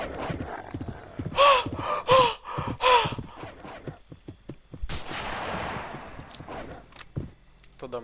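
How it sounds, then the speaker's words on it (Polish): Gunfire in the Westbound video game, a few sharp shots mixed with galloping hooves, a horse's whinny and gasping effects, with a burst of noisy impact near the middle, fairly loud and close. "strzały, dobra."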